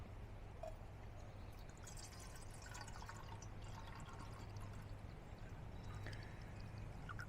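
Water poured into a metal canteen cup at a camp meal, a quiet, continuous trickle and splash with scattered drips, heard alone at low level.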